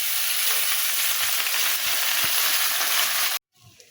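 Small tengra fish coated in salt and turmeric frying in hot oil in a kadai wok: a loud, continuous close sizzle with crackles and a couple of soft knocks, cutting off abruptly to near silence near the end.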